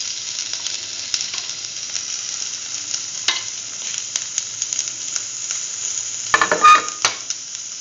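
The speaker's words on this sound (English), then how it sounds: "Put in the shallots." Shallots hitting heated oil in a pan crackle and sizzle steadily, with a short louder burst of spitting near the end and faint scraping between. Nobody speaks.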